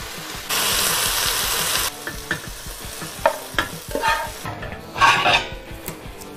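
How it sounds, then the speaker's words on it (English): Broccoli with soy sauce is stirred in a pot, with a burst of sizzling followed by scraping utensil clatter against cookware, close and clear without talk. "now I'm gonna add in a little bit of soy sauce"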